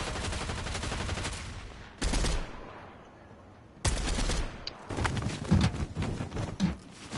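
Gunfire in the video game Fortnite, dense rapid bursts of shots in several loud stretches separated by brief quieter pauses, close and harsh.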